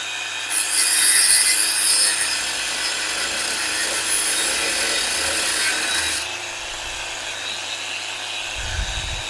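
Grosser GAG 120N cordless brushless angle grinder on its lowest speed cutting through wires gives a loud, close, high whine and grinding rasp for about six seconds before it cuts off, leaving quieter background noise.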